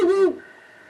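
A recorded Ural owl call is played as a lure on a wintry Odaesan mountainside: one short, fairly loud, low hooting note that cuts off quickly, leaving a faint hum.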